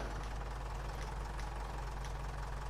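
A tractor engine idles in Farming Simulator 19, giving a steady, close, low rumbling drone with a faint knocking pulse that holds at an even level throughout, with no voices.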